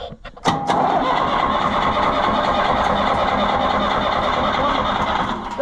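An Allis Chalmers tractor engine is cranked over steadily without catching, giving a loud, continuous churning drone that begins after a brief sharp knock and runs unbroken to the end.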